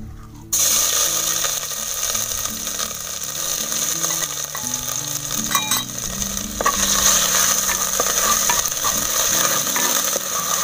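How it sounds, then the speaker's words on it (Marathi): Ginger-chili paste sizzles and crackles in hot oil, a steady frying hiss with occasional scraping of a spoon against the pan. "त्या तेलामध्ये आता आपण आलं मिरचीची पेस्ट आहे ती टाकूया"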